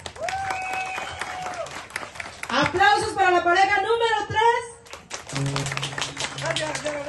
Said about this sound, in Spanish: Aplausos para la pareja número tres.